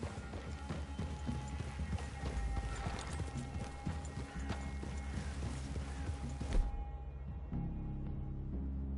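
Horse hooves clip-clop steadily on the ground in the Red Dead Redemption 2 video game, a continuous close rhythm of several horses walking under a low ambient bed.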